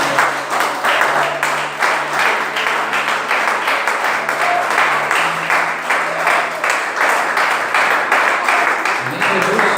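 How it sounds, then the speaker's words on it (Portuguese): A church congregation applauding together during a Sunday service, sustained loud rhythmic clapping from many hands filling the room for several seconds, with voices mixed underneath. "Aplauda o Senhor bem forte"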